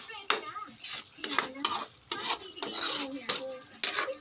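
Fried potato and carrot pieces drop into a pot of simmering chicken caldereta, making a series of close, clattering thuds with light sizzling and utensil scrapes between them.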